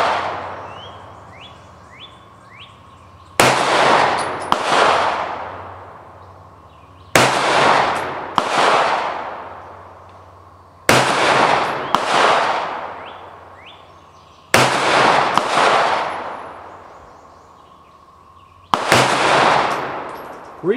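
A 9mm Taurus PT111 G2 pistol fires five sharp, loud shots at spaced intervals outdoors, each crack trailing off in a short echo, with faint birdsong between shots.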